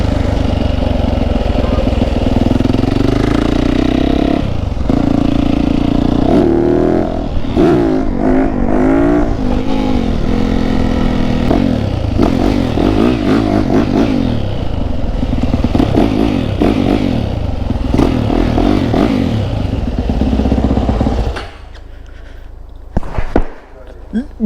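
Yamaha YZF 450 Monster Edition dirt bike exhaust revving up close, loud repeated throttle blips and rising engine pitch over a rough idle, dropping away near the end.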